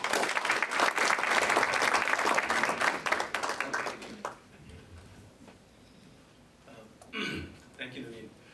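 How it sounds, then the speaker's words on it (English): Audience applause for panelists and co-chairs, a burst of clapping that fades after about four seconds, followed by quiet room noise and a few thumps. "let's give a big round of applause to even our highly accomplished panelists and our co-chairs."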